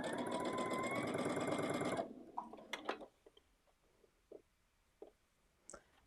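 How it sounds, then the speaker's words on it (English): A sewing machine fitted with a walking foot runs in a loud, steady, whirring rattle for about two seconds, then stops, leaving a few soft clicks and taps. "Hopefully you can hear me while it's running."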